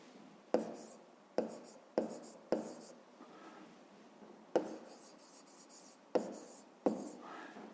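A pen writes an answer by hand on paper, giving about eight quick, distinct scratching strokes in a soft, close, irregular rhythm.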